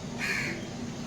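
A single crow caws once, clear and fairly close, amid early-morning birdsong at a railway junction, with a steady low rumble underneath and no talking.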